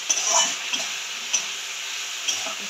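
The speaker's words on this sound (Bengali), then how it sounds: "আদাটা যাতে ভালোভাবে তেলের সাথে ভাজা হয়ে যায় সেইটা দেখতে হবে।" Ginger fries in oil in a pan while a Bengali fish curry with potato, eggplant and bori is being cooked, giving a soft sizzle with three or four light utensil clicks, close by and no voices.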